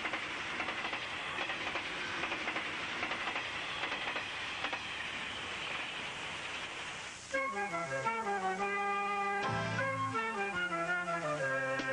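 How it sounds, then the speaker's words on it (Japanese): The limited express Yamabato running between Tokyo and Yamagata on the Ou Main Line around 1978, a soft steady rolling clatter of wheels and rail for several seconds before music takes over. "東京と山形を結ぶ特急列車やまばとも、ビジネス客や観光客の便利な足として美しい姿を見せます。"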